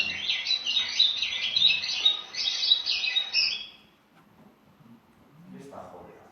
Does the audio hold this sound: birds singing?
yes